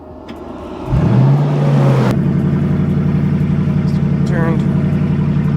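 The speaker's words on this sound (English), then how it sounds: "I'm gonna quickly start up the car" A 700hp Jaguar XFR, damaged in a crash, fires up with a loud starter whir and surge, then settles into a steady, close idle with a light blip, alone without talk.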